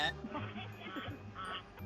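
Several ducks quack in quick, overlapping bursts at close range, with a voice talking alongside them.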